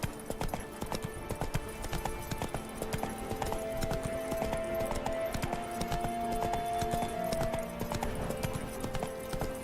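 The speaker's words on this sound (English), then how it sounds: "Whoa there, Roach" A horse's hooves clip-clop in a steady, rapid rhythm throughout this Witcher 3 video game scene, with a faint whinny partway through and a busy layer of game ambience underneath.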